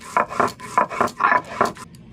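Cumin, ginger and coriander being ground into a spice paste, a handful of short, close scraping and rubbing strokes in a quick uneven rhythm, with no talking.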